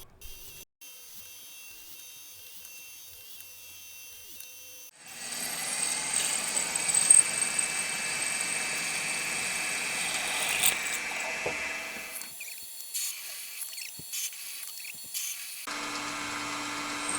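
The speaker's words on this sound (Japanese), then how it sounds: "まずドリルで下穴を開けてエンドミルで仕上げる" A milling machine drills a pilot hole and then finishes a slot with an end mill in metal, giving a steady high whine for several seconds, then a quieter cutting stretch and a change in pitch.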